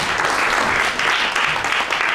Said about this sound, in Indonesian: Mohon diberi aplaus.